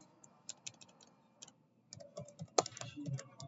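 Keys clatter on a computer keyboard in irregular quick taps, sparse at first and then denser and louder, heard close in a quiet room.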